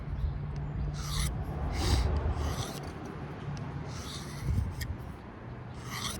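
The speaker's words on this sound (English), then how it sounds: "Did some honing passes on that ceramic side there" Repeated knife honing passes on the ceramic side of a sharpener, testing a CPM 4V steel blade at 64/65 HRC: a steady raspy scrape with several stronger, brighter strokes recurring at an uneven rhythm, close and continuous.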